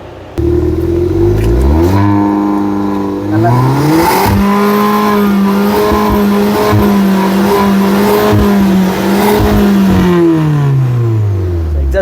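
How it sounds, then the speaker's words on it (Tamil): A modified Volkswagen Polo GT TSI with an aftermarket exhaust revs loudly and steadily for several seconds, its engine note climbing, holding and dropping back in repeated sweeps, close by with no talking. "கேட்டிருப்பீங்க எக்ஸாஸ்ட் வந்து சூப்பராக இருக்குது பாருங்கள் வண்டியில்"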